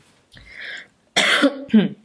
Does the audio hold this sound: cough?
yes